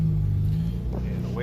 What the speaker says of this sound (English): I'm going to give her a little bit of gas so she smooths out